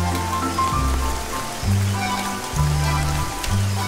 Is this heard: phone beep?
no